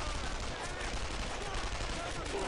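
Dense, continuous gunfire from the World War II shooter Brothers in Arms: Earned in Blood, a steady wash of rifle and machine-gun shots with no clear gaps, fairly loud throughout.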